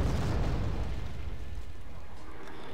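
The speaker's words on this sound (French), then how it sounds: "Parce que mon artillerie a honnêtement fait le travail." Artillery blasts from the strategy video game Wargame Red Dragon, a loud rumbling boom that opens the clip and fades into a sustained low roar with crackling debris, with no talk over it.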